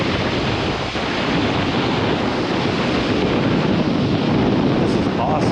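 Waves break on a Michigan lake beach in a loud, continuous wash, with heavy wind buffeting the microphone the whole time.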